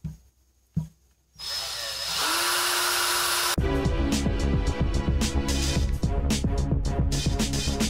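A cordless drill whirs up to a steady high-pitched spin, then grinds with a rough rotary flat sanding wheel against 18650 battery terminals, loud and close.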